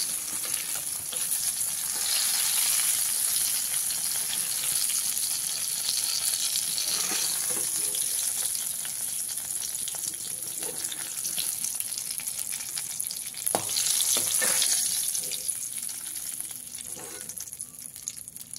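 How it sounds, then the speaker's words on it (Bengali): Eggplant pieces fry in hot oil over a medium gas flame, giving a continuous close sizzle with occasional louder crackles and bursts of spitting. "গ্যাসের ফ্লেমটাকে মিডিয়ামে রেখে বেগুনগুলো আমি ভালো করে ভেজে নিই"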